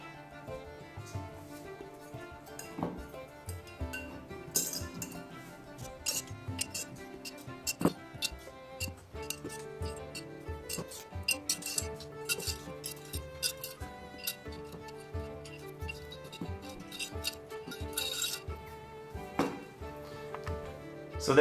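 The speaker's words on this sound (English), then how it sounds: "So let's fill this up with our miniatures." Painted miniatures clinking as they are dropped into a container for paint stripping, a continuous close run of small metallic and plastic ticks and clinks throughout.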